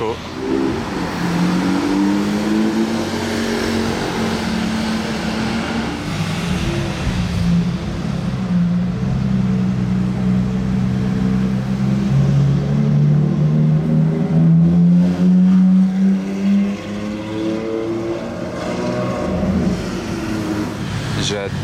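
A Ferrari SP3 sports car in Monaco revs loudly, its engine pitch rising and falling in repeated sweeping surges, close by and sustained, while people talk at times underneath.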